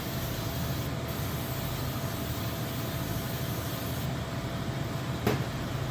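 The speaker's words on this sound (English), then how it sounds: "We're gonna spray it with our vegetable oil" Vegetable oil sprays onto a double-sided waffle iron as a steady, close hiss lasting several seconds, ending with a brief louder burst.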